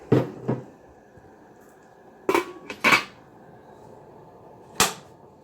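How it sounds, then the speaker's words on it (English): A pot lid clatters shut on a vegetable beetroot borsch on an electric stove, a few sharp metallic knocks and clinks spread over a few seconds, with quiet between them. "So we'll put it in, close the lid and turn off the stove."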